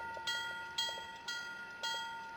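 A model train on a Pennsylvania & Berwind layout pulls away at low volume, with a steady tonal hum and faint rhythmic clicks of wheels over rail joints repeating about every half second, with no voices.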